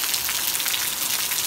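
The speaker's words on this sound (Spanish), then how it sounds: "Está lloviendo a cantarazos." Heavy rain pouring down in March in a rural area of El Salvador, a steady dense hiss of drops drumming on surfaces, loud and unbroken with no voices.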